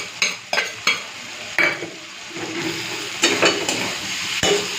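Taro stolons with shrimp fry in a pan with a low steady sizzle, broken by repeated spatula stirs and scrapes against the metal, close and moderately loud.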